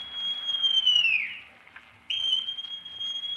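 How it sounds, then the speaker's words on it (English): A shrill, sustained whistle blast in a Treasure Island radio drama. The tone sags in pitch and cuts off, then after a short pause a second long blast follows, loud and clear with no talking. "Then Silver brought out a whistle."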